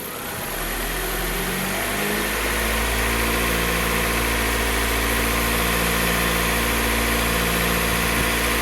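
A 1997–2001 Honda CR-V engine, warmed up after a thermostat replacement, idles with a low steady hum and then is revved, rising into a loud sustained drone that holds near the listener.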